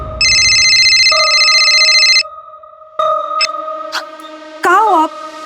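A telephone rings with loud electronic tones: a buzzing warbled burst, then sustained beeping pitches and chirps, close and clear, with a voice-like wavering sound near the end.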